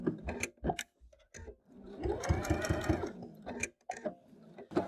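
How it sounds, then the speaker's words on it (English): A sewing machine runs a short back stitch on a leaf-patterned fabric bag, a steady mechanical whir with rapid needle ticking for a couple of seconds, framed by brief bursts of start-stop stitching and handling noises. "So I'm just going to do a little back stitch."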